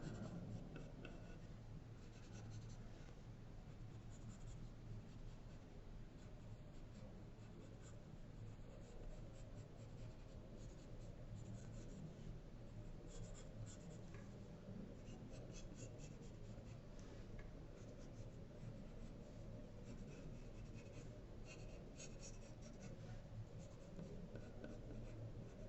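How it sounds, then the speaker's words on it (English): A wooden yellow pencil rubs graphite onto the back of paper, a faint, steady scratchy shading sound that runs continuously without pauses. "You just wanna put graphite on the back side of your lines."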